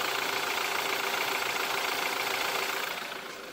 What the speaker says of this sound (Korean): 굉장히 정숙하고 조용한 엔진 소음 만나보실 수가 있고요